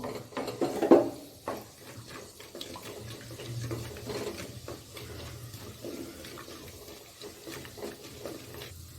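Cumin seeds fry in hot oil and ghee with a steady, soft sizzling hiss that continues throughout, with a few light clatters near the start and no talking.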